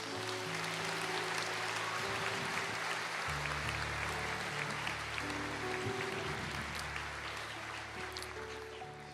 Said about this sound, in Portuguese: Aplauda o Senhor, gente.